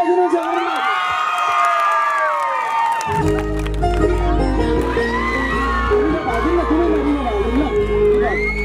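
An audience at a live music show cheers and shouts, building into a loud crowd roar with whoops and some clapping under a heavy bass beat, with voices calling out over the noise.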